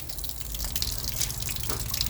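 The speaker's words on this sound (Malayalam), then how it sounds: "വെള്ളം പോകുന്നു, പക്ഷെ ഇത് കയറാൻ പാടാണ്, അത്രേ ഉള്ളൂ." Water flowing through a blocked drain, a steady close rushing and gurgling wash with faint dripping, heard alone without voices.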